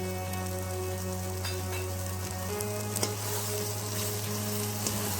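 Spice masala with byadgi chilli sizzles steadily in hot oil in a kadai for shipi aamti, a constant close frying crackle over a low background hum, with no voices.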